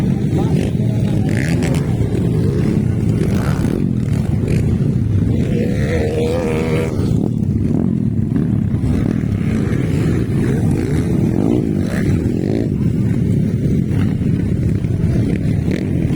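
A Kawasaki KLX 150 motorcycle engine runs loud and close, rising and falling through revs as it shifts into third and fourth gear, with a steady rumbling drone throughout.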